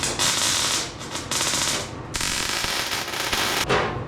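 Loud, close crackling bursts of welding on the tilt front end of a 1951 Chevy rat rod truck, coming in several sputtering runs with short breaks between them.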